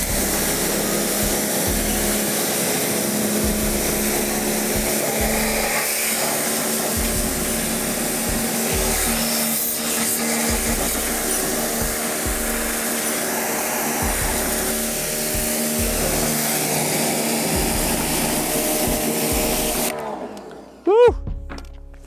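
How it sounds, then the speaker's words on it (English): Pressure washer rinsing a shortened classic Mini car outdoors, a loud, steady hiss and motor drone running continuously for about twenty seconds before cutting off abruptly, with talk over it. "Rinse it off with the old pressure washer."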